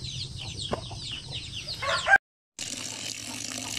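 Chickens on a poultry farm cluck and squawk loudly up close at feeding time, one call rising sharply before a brief cut to silence, after which the flock's chatter resumes under a rattling mechanical clack.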